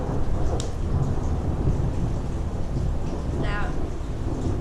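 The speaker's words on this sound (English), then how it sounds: "So, thunder and lightning." Thunder rumbles through a continuous loud, broadband roar of a thunderstorm outdoors beside a homestead garden, with a sharp crack near the start and a brief chirping sound later over the steady storm noise.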